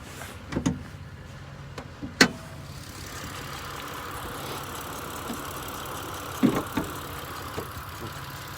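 The power convertible top of a 2007 Mitsubishi Eclipse GT V6 raises with a steady motor hum under the idling engine, framed by a few clicks and clunks at the start and finish.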